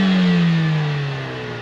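Mercedes-AMG CLA 45 four-cylinder engine heard from outside the car, a loud, steady rev with a falling pitch that slowly fades over a second and a half.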